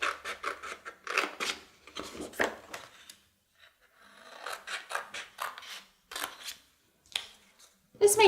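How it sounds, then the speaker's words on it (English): Scissors snip through craft paper for a prayer garland, making repeated crisp cutting strokes in quick bursts with short pauses, close and fairly quiet, with no talking. "Go ahead and start by cutting the paper as accurately as possible."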